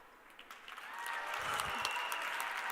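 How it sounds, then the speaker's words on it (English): An audience applauds after a political speech, a faint, steady patter of clapping that builds slightly and holds with no voices over it. "You don't have to applaud for that speech"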